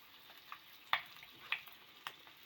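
Cinnamon, black pepper and fried onions sizzling in a pan over a medium flame, a faint soft fry broken by several sharp stirring clinks spaced roughly half a second apart.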